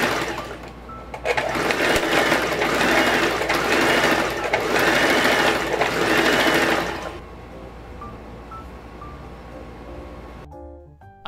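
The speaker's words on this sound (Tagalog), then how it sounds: "sinimulan ko na magtahe using my sewing machine." A sewing machine stitches fabric in a loud, steady whirring run for about seven seconds, then drops to a quieter hum before cutting off.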